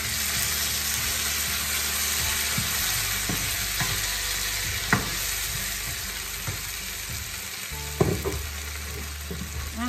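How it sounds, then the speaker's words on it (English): Tomatoes are frying in a little olive oil, producing a loud, continuous close sizzle with occasional stirring clicks and pops, and no voices over it. "Little bit of olive oil. Then I add the tomatoes."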